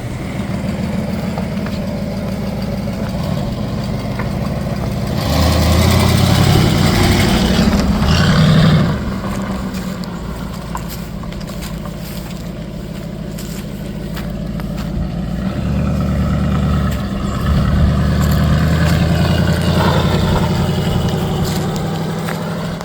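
A 1964 Mercury Comet 404 wagon sits idling as its engine warms up, putting out a steady low rumble close by that swells briefly about a third of the way through, then settles back to an even idle.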